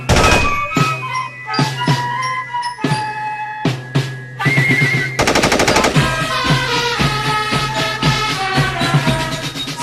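Rapid bursts of Madsen light machine gun fire rattle in short and long volleys, loud and close, with sharp cracks repeating throughout.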